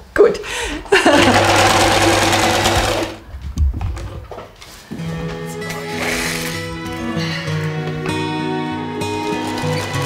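A sewing machine stitches two stacked fabric pieces together 1.5 cm from the edge, with a steady, close mechanical whir in sustained runs, followed by quieter tonal humming as the stitching continues.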